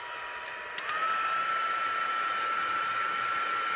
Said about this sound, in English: So I'm going to heat this just a little bit just to dry it out slightly.